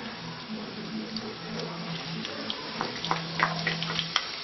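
Garlic and onion frying in a pan, a close, continuous sizzle with light crackles and occasional stirring clicks, with faint background hum and no one talking.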